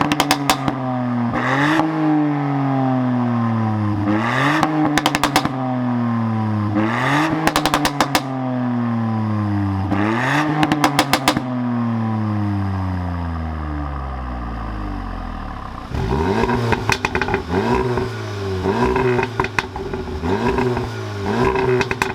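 A VW Golf R and a REVO-tuned Ford Fiesta ST revving hard in turn, repeated rising engine sweeps with sharp crackles and pops between them, one long rev dying away, then a rougher, busier idle and blips, loud and close.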